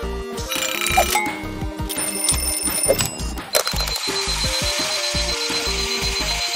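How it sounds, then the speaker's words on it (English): A toy-car alarm clock rings loudly with rapid, repeating electronic bell tones in a continuous pulsing pattern, close to the microphone, with no talking. "let's see how it competes with all of your other alarm clocks."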